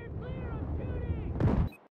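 Gunfire in Battlefield 4, a dense burst of shots and rumbling blasts over about two seconds ending in one sharp louder crack, with a voice speaking underneath.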